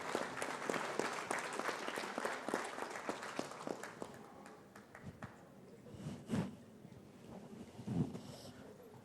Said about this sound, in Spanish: pido recibamos con un fuerte aplauso